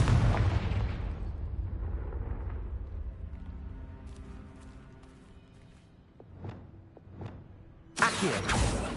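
A Confringo blasting spell from a Harry Potter video game goes off with a loud booming burst that rolls away into a fading rumble, then a sharp second blast erupts near the end.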